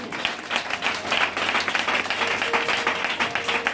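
A congregation in church claps together, a thick crowd of applause with a slightly pulsing rhythm, loud and continuous throughout.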